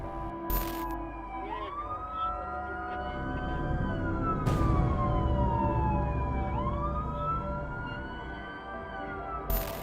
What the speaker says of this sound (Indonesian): Orang ini ngevideoin sebuah ambulans yang lewat di depan gedung itu.